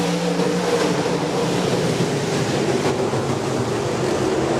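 Iron Man stock cars racing at Rapid Speedway make a steady roar of engines, continuous and fairly loud, with no voices over it.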